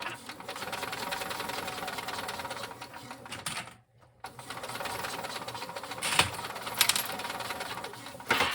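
Sewing machine running steadily as it stitches a quarter-inch seam across a crossbody bag, a continuous whir that stops briefly, then resumes with a few sharp clicks.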